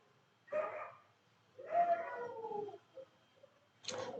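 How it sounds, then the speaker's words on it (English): A dog in the background lets out a few short, faint howls and yips, separated by quiet gaps, with one longer wavering howl in the middle and no talking over it. "You're just in time for the dog howling show,"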